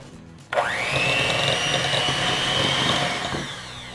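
A hand mixer starts up and whirs steadily through gingerbread cookie dough, a close, loud motor hum with slight changes in pitch as it works.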